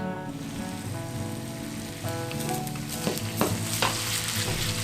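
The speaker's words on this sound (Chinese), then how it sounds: "然后我们现在就倒入一点香油，然后爆香我们的老姜、" Ginger, celery and large chili peppers sizzle in sesame oil in a clay pot, a loud continuous frying hiss with spatula scrapes and stirring clatter toward the end.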